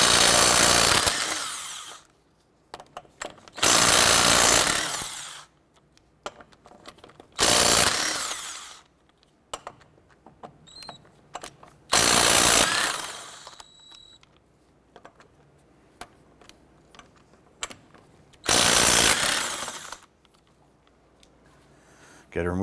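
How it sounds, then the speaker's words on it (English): An impact tool with a 19 mm socket removes the wheel lug nuts on a 1994-2004 Chevrolet S10, sounding as five loud, close bursts of whirring and hammering with quiet clanks and handling noise between them. "Let's get to remove our lug nuts using our 19 millimeter socket."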